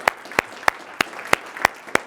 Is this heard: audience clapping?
yes